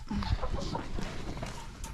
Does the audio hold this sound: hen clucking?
yes